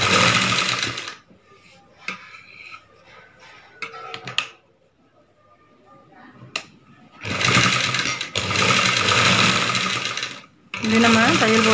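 Sewing machine stitching the V-shaped neckline of a blouse in a tailoring session, loud sustained runs of rapid needle chatter in two long bursts, separated by quieter handling sounds and brief pauses.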